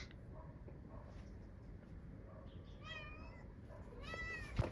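A stray cat meows twice outdoors on the Greek island of Sifnos, clear drawn-out cries rising above faint background noise, the second one louder and closer.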